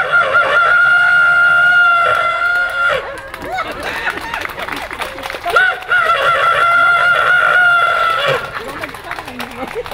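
A person imitates a rooster crowing, two long drawn-out calls separated by a short gap with scattered noise, loud and close.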